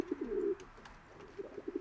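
Pigeons cooing inside a pigeon loft being rebuilt after a fire, a soft low murmuring coo at the start followed by a short pause, then a run of rhythmic throaty coos close to the microphone.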